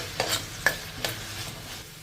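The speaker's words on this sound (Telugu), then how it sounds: "ఇంకా వీటిని మనం మీడియం ఫ్లేమ్కి హై ఫ్లేమ్కి అడ్జస్ట్ చేసుకుంటూ ఒక 5-6 నిమిషాలు ఫ్రై చేసేసుకోవాలి." Cut potatoes fry in a pan over medium-high flame, a constant sizzle punctuated by three distinct spatula scrapes as they are stirred.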